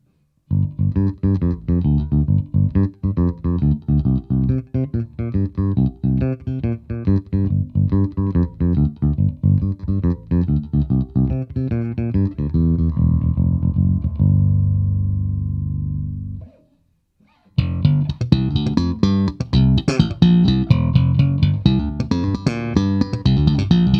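An electric bass (Music Man Stingray 4H) plays a run of plucked notes through an Eden amp with the preamp EQ set flat, holds a long sustained note, cuts to a brief silence, then resumes with busier, brighter playing.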